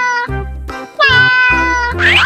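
A cartoon cat in a colorful 3D animal animation lets out a few loud, drawn-out meows over a thumping rhythmic beat, finishing with a bright swooping whistle.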